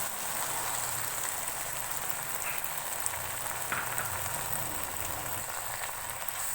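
Stock (yakhni) poured into a pot of cooking pea pulao with softened tomatoes, giving a steady, close sizzling hiss like rain on a surface that runs unbroken throughout, with a few faint clinks and no talking.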